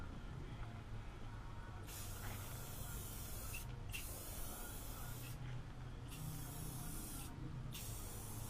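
An aerosol spray can lays clear coat onto the wiper cowls of a 2007 Nissan Titan in several close, loud hissing bursts separated by brief pauses, with no talking.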